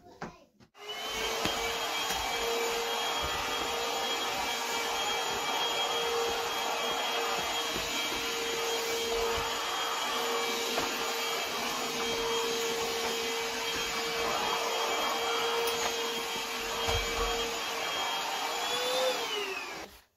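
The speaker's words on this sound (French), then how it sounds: "Avant cela, il faut que j'aspire ça." A vacuum cleaner runs over a small rug in a bedroom, giving a loud, steady motor whine and airflow roar that holds for about twenty seconds before winding down.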